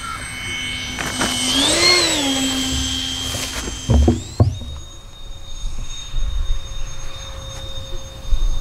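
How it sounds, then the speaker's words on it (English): An FMS A-10 Thunderbolt V2 RC jet on an electric ducted-fan setup makes a slow gear pass. Its steady high whine swells and bends in pitch as it passes by, over faint background noise and a few thumps. "Let's shoot a couple touch and goes. We're gonna do a gear pass here."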